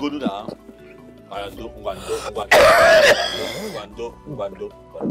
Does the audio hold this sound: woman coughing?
yes